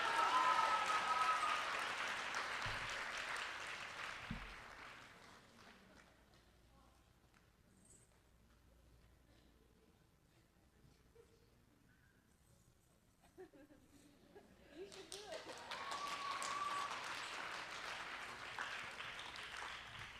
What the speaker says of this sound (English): Come on, you can clap.